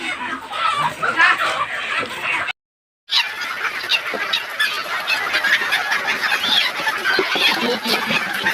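A dense, continuous chorus of many chickens clucking and squawking close by during vaccination, with a brief silent gap partway through.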